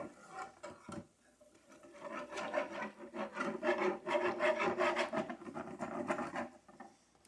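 A utensil scrapes browned bits from a pan as beef broth is added for gravy, a close, raspy scraping and sizzle in uneven strokes, fairly quiet.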